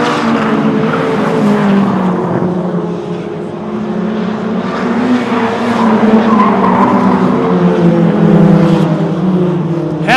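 Short-track race cars, including a Volkswagen, roaring around an oval at a super short track event, a loud, dense engine drone rising and falling as the pack passes close, with tire noise mixed in.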